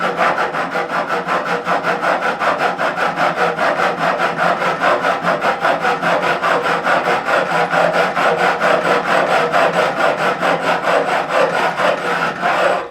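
A file rasps steadily along the edge of the binding on the neck of a 1957 Hofner President guitar during a refret, producing continuous, rhythmic, close strokes that sound loud and alone.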